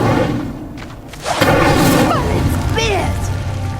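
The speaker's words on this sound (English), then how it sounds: "Incendio." A fire spell cast in the Hogwarts Legacy video game, igniting a pyre: a loud whooshing burst with a thud near the start, followed by a sustained roaring crackle of flames, with voices faintly present.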